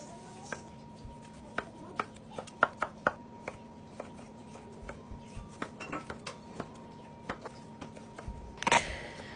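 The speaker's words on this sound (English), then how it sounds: "now I'm just chopping up the vegetables for the stew" Vegetables chopped for a stew with a knife on a cutting board, a steady series of sharp, close taps at an uneven rhythm, with a brief rustle near the end.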